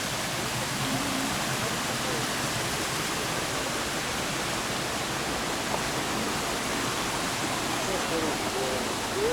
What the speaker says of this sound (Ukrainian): Вода хорошо бежит.